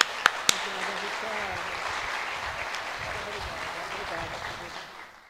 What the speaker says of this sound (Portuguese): Vamos dar uma salva de palmas para ela